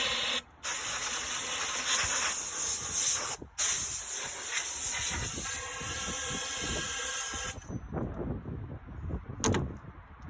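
Compressed air hisses loudly in long bursts through a Harley-Davidson FXR fork tube, cutting off briefly twice, then trailing into softer clanks and short puffs near the end.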